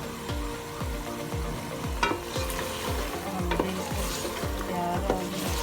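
Minced keema sautéing in a pot for a stew with whole spices, a steady loud sizzle broken by repeated scraping stirs of a spoon against the pot, close and continuous with no talking.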